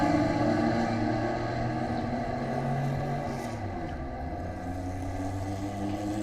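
Sports cars roar away together from a green-flag race start at Road America, a loud, continuous layered engine drone whose pitch slowly shifts as the pack accelerates.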